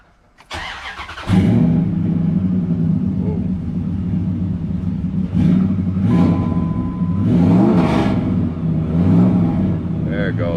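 A 2003 Dodge Ram 1500 pickup with nearly 399,000 miles and fresh spark plugs cranks, catches and starts, then its engine idles with several rising and falling revs, close and loud and continuous.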